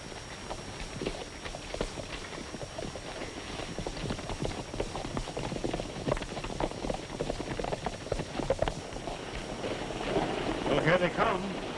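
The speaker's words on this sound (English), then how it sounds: "Get on your horses." Horses move off in a 1936 Western film, their hooves clip-clopping in an irregular beat that grows slightly louder toward the end, with people talking over it.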